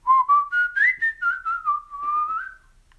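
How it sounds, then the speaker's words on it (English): A single person whistles a melody, a clear, close tune of short phrased notes that glides up and down before fading out, with no talking. "It's like the whistle."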